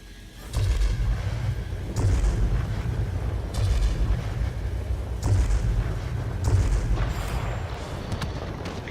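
Cannons on a Focke-Wulf Ta 152 German fighter in World of Warplanes fire in several heavy, booming bursts, each a deep rumbling blast with engine drone carrying between them.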